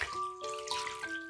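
Fresh walnuts get a quick rinse under cold running tap water in a kitchen sink, a brief close splashing stream with a few ringing tones.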